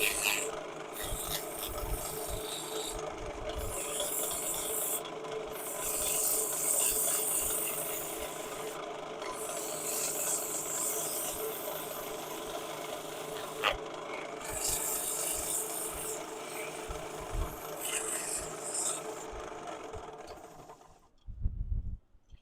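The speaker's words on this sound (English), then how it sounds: "Makes the sanding just so much faster." Sanding a wood turning on a lathe gives a steady rasping, rubbing drone close by. It shifts and pauses now and then, and the spinning stops near the end.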